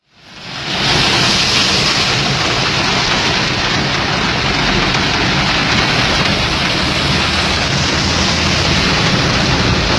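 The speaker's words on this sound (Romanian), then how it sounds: "Ploaia torențială care a căzut a blocat canalizările, iar centrul orașului s-a transformat într-un adevărat lac." Torrential rain pours down during a storm that flooded city streets, a loud, unbroken roar of heavy downpour that swells in within the first second and holds steady for the rest, with no voices.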